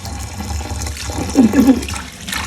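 Tap water runs steadily while fresh coriander leaves are rinsed, a continuous splashing wash that swells in the middle and near the end, with no talk over it.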